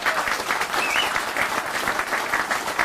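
Steady crowd applause at an outdoor grand opening event, dense clapping from many hands sustained evenly throughout.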